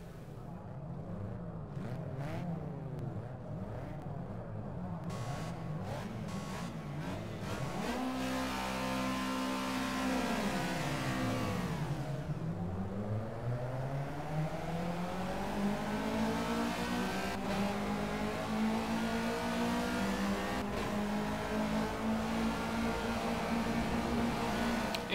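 Race car engines in the Project CARS video game rev hard at a race start, with several overlapping motors rising and falling in pitch through gear changes, loud and continuous throughout.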